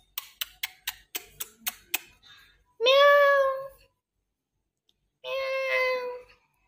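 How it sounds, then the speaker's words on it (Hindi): A cat meows twice near a home, two drawn-out, clear calls with a pause between, after a quick run of sharp ticking clicks. "यहाँ एक म्याऊं म्याऊं कर रही है।"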